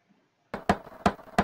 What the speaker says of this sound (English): That isn't the new knock